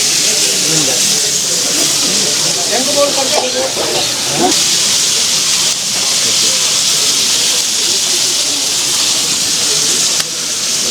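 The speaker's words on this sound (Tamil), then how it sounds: "அதுக்கப்புறம் இந்த மாதிரி ஃப்ரை பண்ணி எடுப்பாங்க" Chili-masala-marinated fish frying in hot oil at a Kerala toddy shop, a loud, steady sizzling hiss filling the scene from start to end, with faint voices talking underneath.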